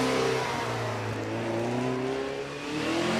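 A Ginetta G20 race car at the Prescott hill climb, a mid-pitched engine revving hard and holding a rising note for a few seconds at moderate distance, heard alone.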